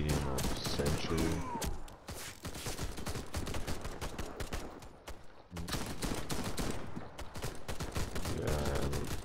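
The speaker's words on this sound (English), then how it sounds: "this time I'm using a Nagant. It's a Russian pistol." Dense gunfire from a Nagant M1895 revolver, a Russian seven-shot pistol, in a shooter game: rapid overlapping loud shots in long stretches, briefly easing near the middle, with talking running underneath.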